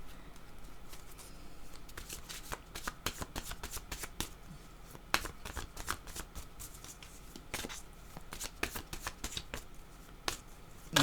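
Tarot cards are shuffled close up for about eleven seconds, making a quiet, continuous patter of riffles and slaps in a soft, steady rhythm.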